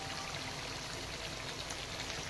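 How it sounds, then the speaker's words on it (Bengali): Coconut milk poured into a cooking pot of braised duck curry makes a steady, close, continuous wet pouring rush with no talking. "এই দুধটা ঢেলে দেবো।"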